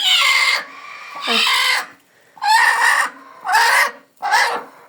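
A hen in a coop clucks close by in five separate bursts, each a loud, throaty run of clucks with short quiet gaps between them.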